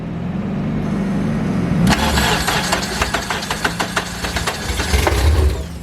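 A K24-powered all-motor Honda Civic drag car fires up for the first time: a starter cranks, then the engine catches with a sudden loud bark and settles into a lumpy, popping idle with repeated sharp blips of throttle.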